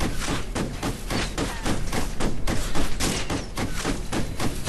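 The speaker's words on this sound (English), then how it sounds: "So here I'm shooting rounds with my sniper rifle into this thing." Sniper rifle fire in the video game Ghost Recon Future Soldier, a rapid run of loud, sharp cracks and thuds repeating in close succession throughout, dense and punchy with no voices.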